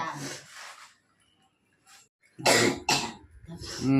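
A few close coughs: one pair at the start, then a louder burst of two or three harsh coughs after a short quiet pause.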